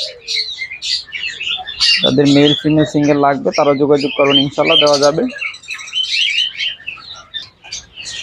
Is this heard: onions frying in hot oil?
no